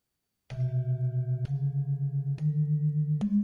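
Four low, deep notes on a Balinese gamelan jegogan metallophone struck one after another, each ringing with a steady pulsing shimmer, stepping gradually higher in pitch, played alone.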